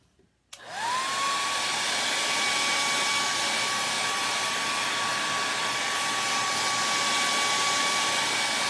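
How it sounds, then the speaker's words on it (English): A hair dryer switches on and then blows steadily and loudly, drying painted kitchen decor at close range with no talk. "let me blow dry that"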